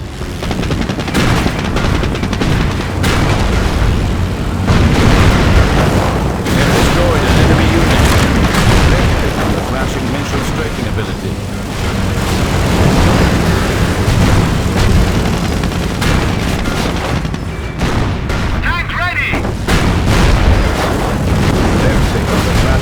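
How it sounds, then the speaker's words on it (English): Henschel aircraft strafing run in Company of Heroes, with dense continuous loud bursts of machine-gun fire and booming explosions filling the whole stretch. "Henschel aircraft will fly by the target location, targeting all enemies within their flight path"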